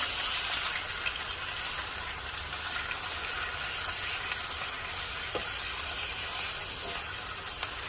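Beer-marinated meat hisses and sizzles loudly in a hot pan, a continuous broad crackling fry with scattered pops, steady throughout with no talking.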